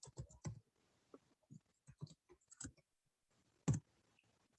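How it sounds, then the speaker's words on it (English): Irregular clicks of typing on a computer keyboard, bursts of keystrokes with short pauses and one louder tap near the end, close and fairly quiet with no talk. "Okay, I'm typing it now."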